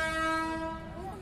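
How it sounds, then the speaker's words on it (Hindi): A slow goods train rolling through a level crossing after leaving the station, a sustained tonal horn sounding near and fairly loud, with low rumble and faint wheel clatter beneath. "अभी स्टेशन से चली गई है इसलिए बहुत स्लो है ट्रेन"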